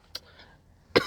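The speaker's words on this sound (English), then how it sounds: "I didn't mean to cough." A single sharp cough near the end, preceded by a brief faint throat sound, in an otherwise quiet room.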